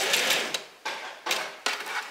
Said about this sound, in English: then I lift my foot, then I sew